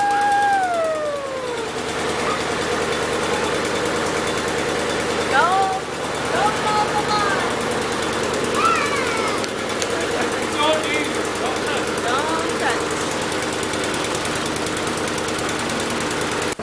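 A lawn mower engine, one that needs a new air filter, runs steadily at close range with a continuous knocking drone, while faint chirping sweeps rise above it now and then.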